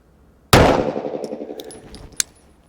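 A single sharp shot from an Aristocrat tri-set sight setup on a range, a loud crack followed by a ringing metallic decay and a second fainter clank about a second and a half later.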